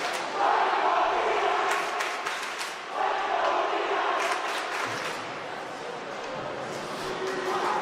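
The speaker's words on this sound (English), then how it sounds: "Now we finally get our first cheer of the night, courtesy of the East Islip fan section." The East Islip fan section cheers at a high school varsity hockey game, a sustained crowd chant and roar from the stands filling the rink over several seconds, with a commentator talking over it.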